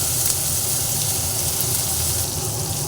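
Tomato pieces sizzle in a pan of oil over low gas flame while cooking brinjal kofta curry, a steady close hiss and crackle running without a break and without talk.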